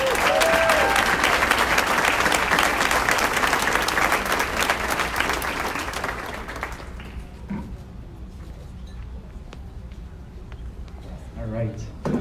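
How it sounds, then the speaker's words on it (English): Loud audience applause fills a community breakfast hall, sustained for about six seconds before fading to scattered claps and room murmur. "One more round of applause for Felipe Rocha."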